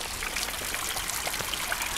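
Small waterfalls and streams flowing in a wet country park, a steady broadband rush and splash of water heard close and continuous with no talking.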